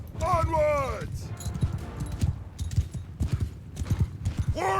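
Horse hooves clip-clop in a rapid, rhythmic gallop during a medieval cavalry battle in Mount & Blade II: Bannerlord, with a brief whinny early on and someone shouting orders over the pounding.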